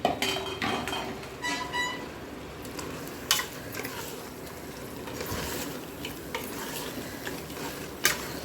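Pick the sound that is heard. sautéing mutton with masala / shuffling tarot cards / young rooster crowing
sautéing mutton with masala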